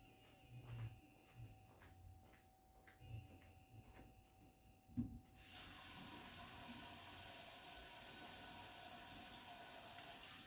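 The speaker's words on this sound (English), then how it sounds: "make sure that you fill the basin with enough water" Tap water running into a basin for a foot soak, a steady, even rush of flowing water that starts abruptly halfway through and continues unbroken, after some quiet handling noises.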